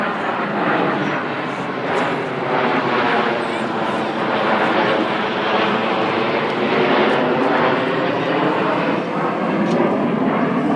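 Red Arrows BAE Systems Hawk T1 jets roaring through an aerobatic display at Farnborough International Airshow, a loud continuous broadband jet rush holding steady throughout, with an announcer's voice talking over it.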